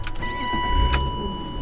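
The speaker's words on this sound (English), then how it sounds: "Roll the window back up." A BMW E36 M3's electric window motor whines steadily as the glass rolls up, a thin sustained hum over a faint background rumble.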